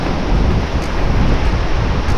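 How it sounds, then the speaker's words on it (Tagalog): Typhoon Uwan's strong wind buffets the microphone on Burias Island, a loud, constant low roar and rumble with no voices. "Kaya malakas pa rin yung hangin dito."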